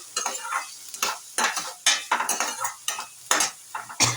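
Drumstick poriyal with onion and curry leaves being stirred in a pan, with repeated rhythmic scraping strokes of a spatula over a soft sizzle, close and clear.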